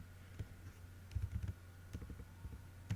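Quiet, close keyboard typing while Java code is entered on a computer, soft irregular key clicks tapping in small clusters over a faint steady hum.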